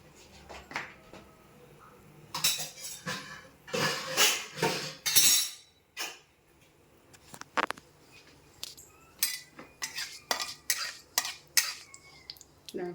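A spoon stirs grated coconut through popping mustard seeds in a hot pan. Close, clinking scrapes come in uneven bursts, with quieter gaps between the rattling strokes.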